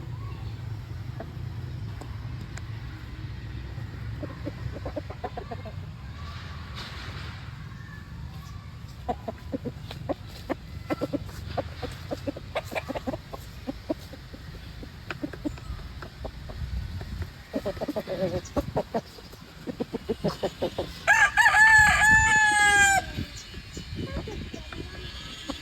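Chickens clucking in a poultry coop housing broodcocks, with soft scattered clucks and a brief louder crow-like call near the end, all over a steady low background hum.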